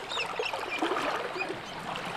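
Cooper Creek flowing at a crossing, a soft steady trickle and babble of moving water heard close by, continuous and fairly quiet, with no talking.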